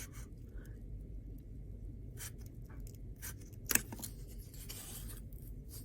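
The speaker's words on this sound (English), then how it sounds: "I'm going to go ahead and take my toilet paper roll and I'm just going to cut it in half with scissors" Scissors snipping through a cardboard toilet paper roll to cut it in half, a few faint, soft crisp cuts and scrapes over quiet room tone, with one sharper click in the middle.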